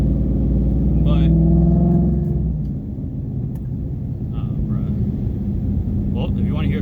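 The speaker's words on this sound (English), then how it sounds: "if you want to hear cruising at 30 miles an hour in 4th gear, here it is" A Ford Mustang S550 cruises at 30 mph in fourth gear, its exhaust giving a low, steady drone and rumble that eases slightly after a couple of seconds, with a voice talking over it.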